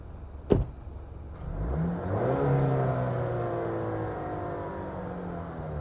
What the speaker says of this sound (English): You do get some nice turbo whooshes, but unfortunately there's fake engine sound.